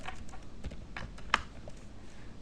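Someone types a short line of text on a computer keyboard with faint, scattered key clicks over a soft background hiss, and one sharper tap stands out.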